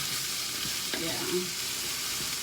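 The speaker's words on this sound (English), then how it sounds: "you hear it sizzling again" Lobster lo mein sizzles in a pan with a little olive oil, a bright, steady frying hiss close up, with a brief stirring scrape partway through.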